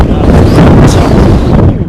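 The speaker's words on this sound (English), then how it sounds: "Got a big gust of wind, that's what I got." Strong gust of wind during Storm Nelson at Heathrow Airport, a loud, continuous roaring buffet of air battering the microphone with rumbling low-end noise for the whole stretch.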